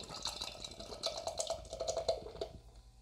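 Roman Candle IPA, a hazy craft beer, poured into a rinsed glass: a soft, close gurgling and splashing stream for about two and a half seconds, then quiet.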